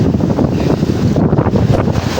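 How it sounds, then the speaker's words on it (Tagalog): Strong wind gusts buffeting the microphone on a boat out on the Pacific Ocean, a steady broadband roar with rough water sloshing beneath, no voices. "Malakas yung hangin."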